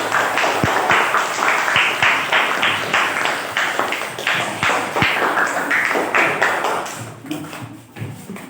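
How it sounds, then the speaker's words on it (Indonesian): Audience applause at a university teacher-training group presentation, a sustained, fairly loud burst of many hands clapping with uneven rhythm that fades out toward the end. "sambil memberi tepuk tangan buat sila keempat"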